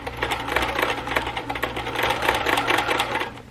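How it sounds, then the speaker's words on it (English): A sewing machine runs a straight reinforcement stitch across the top of a fabric bag for a wheelchair or walker, a steady rapid mechanical stitching rhythm, close and continuous with no talking. "I'm going to start at the very top of the bag and do a reinforcement stitch at the top of the bag"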